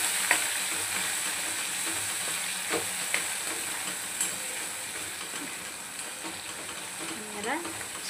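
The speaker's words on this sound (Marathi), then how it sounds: "आता आपण वाटलेल्या मसाल्याचं वाटण टाकूया." Ground masala paste frying with mutton in a pan at a village-style stove: a continuous soft sizzle with scattered clinks and scrapes of stirring throughout.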